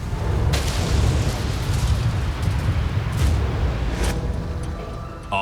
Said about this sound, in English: A vapor cloud explosion occurred almost immediately.